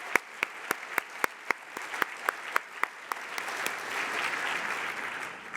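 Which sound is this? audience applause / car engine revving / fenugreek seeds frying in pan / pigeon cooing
audience applause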